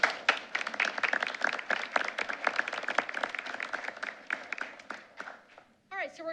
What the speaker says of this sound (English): one more round of applause for all of our students tonight